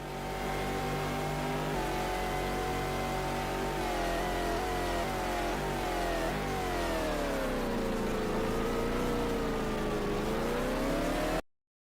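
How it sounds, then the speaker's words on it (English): Dacia Sandero engine in a racing video game on the Nordschleife, droning steadily with rising and falling pitch as it revs and shifts through gears, continuous and close for about eleven seconds before cutting off. "I'm gonna race a Dacia Sandero around the Nordschleife."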